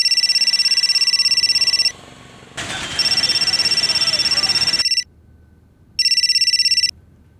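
A telephone rings loudly in bright electronic bursts, two long rings separated by a quieter stretch of muffled room noise, then a shorter final ring before it stops.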